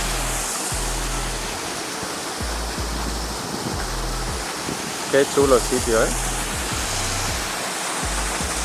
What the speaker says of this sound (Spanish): esta pequeña poza en la que ya te puedes bañar con la cascada